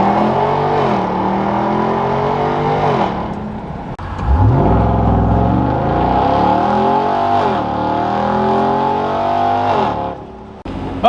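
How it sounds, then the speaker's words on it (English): A Ram TRX pickup's engine roars through hard acceleration, loud and close, rising in pitch through the gears with brief drops at each shift and a deep surge after the midpoint. "Here's another pull, because you can never have enough pulls in the TRX."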